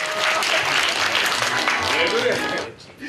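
Loud theatre audience applause for an actor, dense and sustained for about two and a half seconds before tapering off abruptly.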